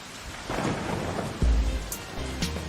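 Rain falls steadily with a deep rumble of thunder rolling through partway, then a second lighter rumble, all fairly close and without any voices.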